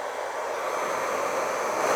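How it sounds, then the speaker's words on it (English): A 1500 watt hair dryer running off a Kia EV6's vehicle-to-load adapter blows a steady, loud, broadband whoosh that holds even throughout, with no voices over it. "my wife will be able to dry her hair with a 1500 watt hair dryer straight on the vehicle-to-load"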